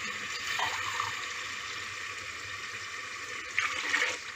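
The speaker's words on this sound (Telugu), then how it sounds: "ఒక గ్లాసు బియ్యానికి రెండు గ్లాసులు కొబ్బరి పాలు పోసుకోవాలండి పోస్తున్నాను" Coconut milk is poured over rice in a pot, a soft, steady liquid stream with faint splashes and gurgles at low volume, no voices.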